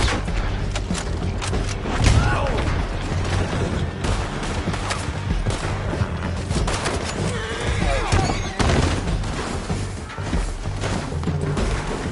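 Red Dead Redemption 2 gameplay: a chaotic gunfight with horses whinnying, hooves pounding, and repeated gunshots and crashes mixed with a music score, busy and loud throughout.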